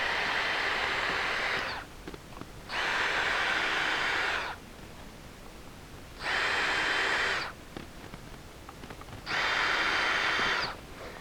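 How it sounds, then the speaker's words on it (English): A DeWalt Atomic 20-volt Max brushless cordless drill whirs in three separate bursts of a few seconds each, starting holes for a parts washer mobile base, with quiet gaps between them, close and fairly loud. "So let's drill a few of these."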